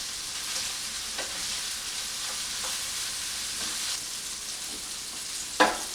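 Sausage browning in grease in a frying pan, a steady close hiss and crackle of sizzling throughout, with a few soft stirring scrapes and a sharper clatter near the end.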